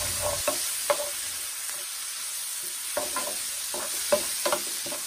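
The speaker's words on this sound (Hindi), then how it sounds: "और हम इसे 2 मिनट के लिए भून लेंगे।" Finely chopped small onion frying in a pan for a malai chicken gravy, a steady sizzle broken by repeated scraping strokes of a spoon stirring, close and clear with no talk.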